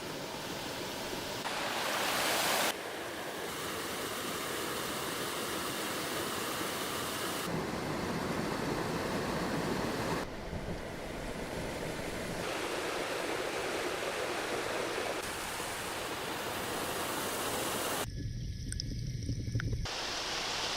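River waterfalls pour and rush continuously in a loud, broad wash of water noise, with the scene shifting between closer and farther views and a brief quieter, muffled section near the end.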